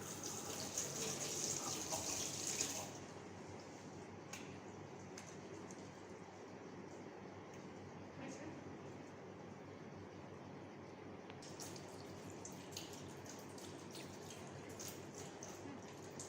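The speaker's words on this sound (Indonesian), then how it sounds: "Melakukan cuci tangan." Hands are washed under a running tap before a postpartum massage, a steady, close hiss of flowing water that shifts in tone after a few seconds as the stream is interrupted, with faint splashing and no talking.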